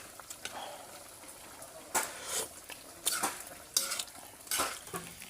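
Spicy chicken sizzles in a pan while a utensil stirs and scrapes it, with several louder clattering strokes against the pan over a steady frying hiss.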